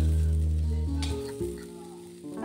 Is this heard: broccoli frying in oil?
yes